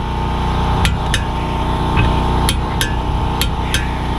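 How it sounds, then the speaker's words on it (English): Sharp metallic clicks ring out over a loud steady hum as a torque wrench tightens the brake caliper bolts on a 2014 Honda Accord, several separate snaps spread irregularly through the clip. "now we're going to torque those two bolts"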